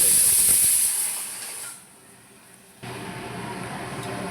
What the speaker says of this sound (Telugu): మా అన్నం కూడా కుక్కర్లోనే రెడీ అయిపోతుంది.